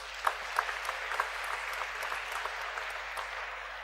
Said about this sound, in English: a heartfelt thank you and round of applause for everybody